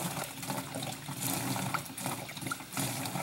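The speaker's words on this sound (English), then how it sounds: "we are currently using a hand pump. It's called a simple pump." A simple hand pump at a homestead draws water in a steady run of trickling and splashing, close and moderately loud, with faint rhythmic pulses as the handle works and no talk.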